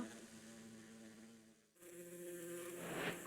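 Bees buzzing in the Minecraft video game, a soft steady drone that briefly dips and then returns, faint and alone without talk.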